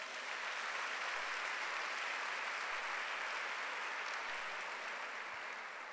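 A church congregation at a Sunday service applauding, heard faint and distant as an even, continuous hiss of many hands clapping with no voices over it.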